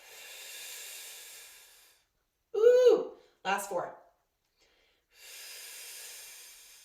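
Long, breathy exhales during an exercise class, two slow audible breaths out at the start and end with a brief spoken remark between them.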